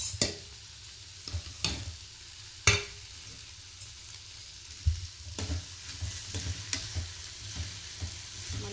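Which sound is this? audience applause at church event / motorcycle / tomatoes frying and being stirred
tomatoes frying and being stirred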